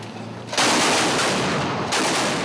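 Anti-aircraft guns mounted on pickup trucks open fire in a Tripoli battle, a sudden loud continuous barrage of heavy automatic gunfire that starts after a brief quieter moment and roars on without pause.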